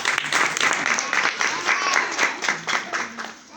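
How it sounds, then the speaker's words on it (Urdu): Church congregation clapping during a Christmas season service, a brisk crowd applause with distinct claps pulsing through it, fairly close and full, while a voice speaks faintly underneath. "ہم خدا کے کلام کے لیے زوردار تالی بجاتے ہیں"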